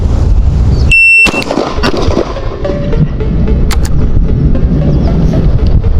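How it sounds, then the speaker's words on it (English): A shot timer gives a short, sharp electronic beep at a pistol practice range, followed by rapid pistol gunshots cracking loudly in quick succession. "On the buzzer, you're gonna pop and move to the next one and pop again."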